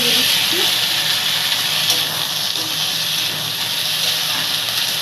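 Potatoes tipped into hot oil already tempered with nigella seeds and green chili, giving a steady loud sizzle and hiss throughout, close and continuous with faint kitchen sounds.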